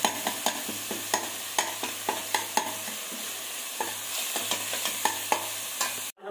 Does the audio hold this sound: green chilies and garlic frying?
yes